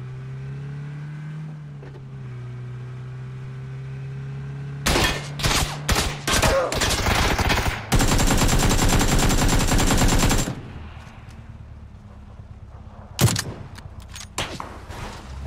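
An AK assault rifle fires in the PUBG video game: loud bursts of rapid automatic gunfire with scattered single shots, one long sustained burst, then a few more distant shots over a low engine hum.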